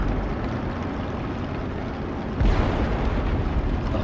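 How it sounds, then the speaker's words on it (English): A loud, rumbling bomb blast in the IL-2 flight combat game, with a sustained roar that swells at the midpoint and continues without any voices. "That bomb was short."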